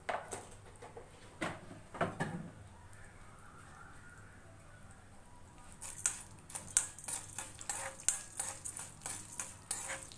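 Chana dal, urad dal and peppercorns dry roasting in a pan, heard as scattered light ticks and rattles of grains against metal. Stirring taps grow more frequent toward the end, over a quiet background hum.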